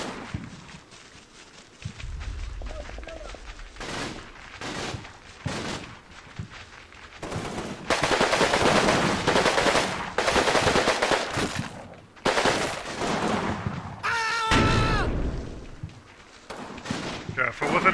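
Machine gun fire in the World War II wargame Combat Mission, bursts of rapid automatic shots in clustered volleys with other battle noise between them, fairly loud.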